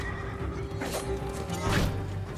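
A horse in Ghost of Tsushima whinnies loudly and close, a shaky high neigh repeated in a couple of bursts over a low background hum.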